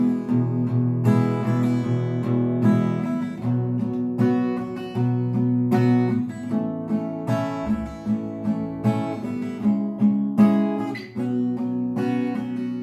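An acoustic guitar strummed in a steady repeating pattern, bright chords alternating with bass notes, played close and clear without any voice; the strumming pattern of a song.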